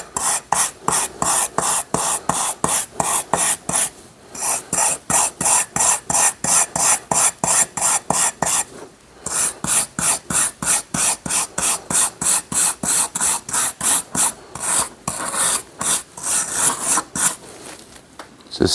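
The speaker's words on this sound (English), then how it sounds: "I'm just going to take a steel brush and start scrubbing." Rusty files and rasps scrubbed with a steel brush in quick, rhythmic strokes, a loud close scratchy rasp repeating about twice a second with two brief pauses and no voices.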